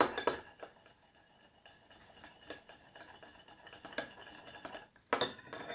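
Utensil stirring white fluffy slime made with glue in a bowl, giving soft wet clinks and scrapes in irregular strokes, close and fairly quiet, with no talking.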